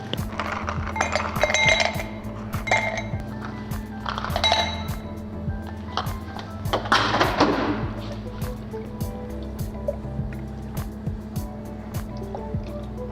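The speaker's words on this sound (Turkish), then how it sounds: "Şimdi benim koyacağım buz miktarı 100 mg olacaktır" Ice cubes dropped into a glass for Japanese iced coffee, making bright ringing clinks in a few bursts, the clearest around the start and midway, followed by quieter settling taps close by.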